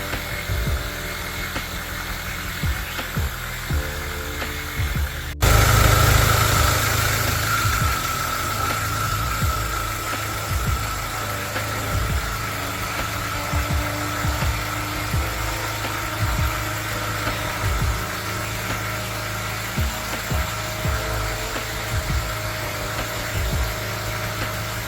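A repaired Mini Cooper engine runs steadily at idle, a smooth, even hum with a faint high whine that picks up abruptly a few seconds in and holds close and constant, with no talking.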